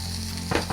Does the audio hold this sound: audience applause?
no